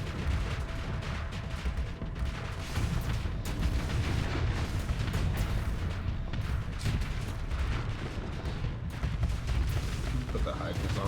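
Weapons on automatic fire in a video game: dense, continuous bursts of rapid gunfire and blasts, with talk over the din.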